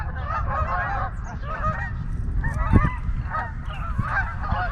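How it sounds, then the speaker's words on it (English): A flock of geese honks continuously overhead near cold water, a busy overlapping chorus of calls over a low rumbling background. "Those geese better not crash down over here."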